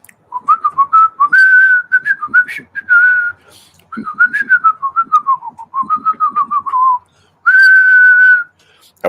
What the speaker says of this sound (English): that was a feeble attempt to whistle the Popeye, like I just ate my spinach music